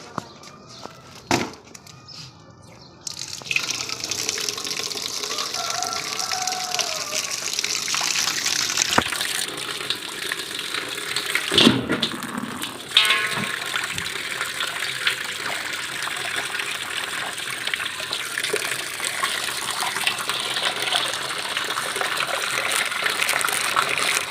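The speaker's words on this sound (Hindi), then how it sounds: "यहाँ पे जो ज़बरदस्त आपको पानी की आवाज़ें आ रही थी" Water running from a tap during deep house cleaning in a home, a steady gushing splash that starts after a few quiet seconds, broken by a couple of brief knocks, then continues loud and close.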